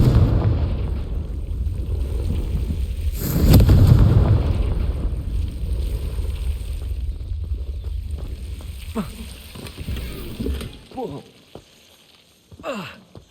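A Confringo spell explosion in Hogwarts Legacy bursts with a loud rumbling blast about a third of the way through, over steady crackling game ambience. Smaller pops and clicks follow later.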